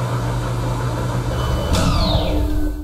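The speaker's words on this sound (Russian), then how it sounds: "Моя гребаная стиралка." A household washing machine runs with a steady low drone and hum, and partway through a rising whine sweeps upward as the drum speeds up.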